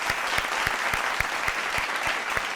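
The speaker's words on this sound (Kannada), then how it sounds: "ಜೋರಾದ ಚಪ್ಪಾಳೆ ಬರಲಿ." Audience applause on a televised singing reality show, loud crowd clapping with a steady rhythmic beat of evenly spaced low thumps running beneath it.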